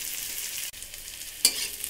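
Onion frying in hot oil on high gas with a bay leaf and chilli, a steady soft sizzle with a brief stirring scrape partway through.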